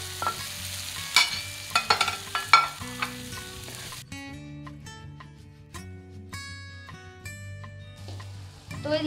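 Onion and capsicum fry in a pan over a high flame, with sizzling and scraping stirs that are busiest early on and then settle under a melodic background tune.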